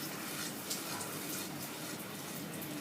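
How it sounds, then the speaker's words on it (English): About half a cup of water poured into a pan of butter chicken masala while it cooks, a steady, close, full-band rushing pour that holds at an even level throughout with no talking. "add water, about half a cup of water"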